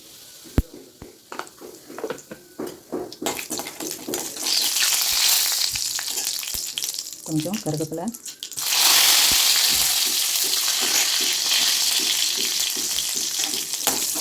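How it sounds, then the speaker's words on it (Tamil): Mustard seeds crackle and pop loudly in hot oil with a pinch of asafoetida, swelling into a steady hiss, with a person talking briefly over the frying. "இப்போ நம்ம பொரிக்கிறத பார்க்கலாம்"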